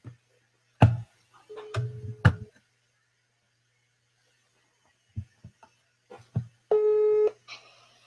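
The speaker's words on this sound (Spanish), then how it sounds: "que la semana pasada hice con Javier Bravo, marcarle a Carmen y ponerla en altavoz" A WhatsApp call rings out on speakerphone: two short electronic ring tones separated by a pause, mixed with scattered clicks and thumps from handling the phone, and no talking.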